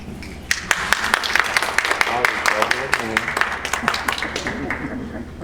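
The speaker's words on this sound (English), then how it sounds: "please refrain from clapping or we will suspend communications" Scattered audience clapping at a Southfield city council meeting, sharp irregular claps from a handful of people in a large room, mixed under ongoing talk and murmuring voices.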